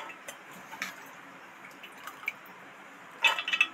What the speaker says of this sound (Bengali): এবার ডালটা জল থেকে ভালো করে উঠিয়ে নিচ্ছি।